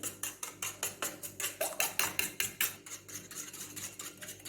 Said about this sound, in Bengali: নুন দিচ্ছি ভালো করে গুলে নিই